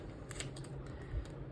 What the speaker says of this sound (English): grab your scissors